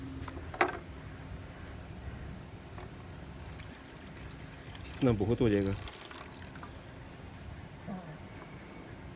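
Water is poured into a tray for washing the mats of a 2005 Mitsubishi Lancer, a steady, fairly faint trickle and splash heard nearby, with someone briefly speaking partway through.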